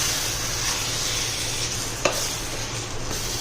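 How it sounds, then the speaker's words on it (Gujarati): A spoon stirs smoky green drumstick olo in a pan as butter melts, a steady sizzle with soft scraping strokes and one sharp clack of the spoon against the pan, without talk. "ત્યાં સુધી આપણું બટર છે સરસ ઓગળી જાય ત્યાં સુધી એને હલાવતા રહેશું."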